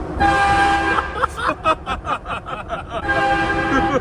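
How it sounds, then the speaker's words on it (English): A loud, sustained train horn mounted on a Toyota Tundra blares nearby, breaks into a series of short choppy blasts, then sounds long and steady again. "we have like 3 seconds of like loud horn"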